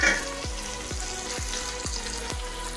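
Fried star fruit (amara) goes into a hot pan with onion and turmeric for an Assamese fish curry, frying with a steady close sizzle. Faint low thumps land about every half second.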